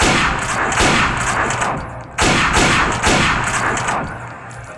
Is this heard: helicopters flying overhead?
no